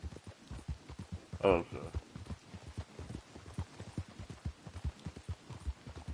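Horse hooves galloping in Red Dead Redemption 2, a steady rapid clip-clop rhythm of hoofbeats running throughout at moderate loudness, with a brief spoken word from a player over it.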